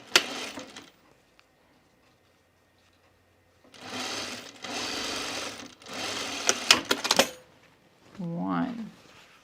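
A sewing machine stitches the shoulder seams of a Mercer top in short bursts, three main runs separated by pauses, fairly close and loud, with a brief softer burst at the start and a voice near the end.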